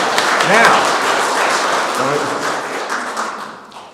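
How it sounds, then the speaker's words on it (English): A lecture-hall audience gives a round of applause after singing happy birthday to Doug, a broad wash of clapping that fades toward the end, with murmuring voices mixed in. "Give him a round of applause"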